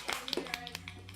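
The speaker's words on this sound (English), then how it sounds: "That's the sound of 4 people clapping at the same time." Sparse clapping from a handful of people at a small family anniversary gathering, a few uneven nearby claps with a voice talking over them.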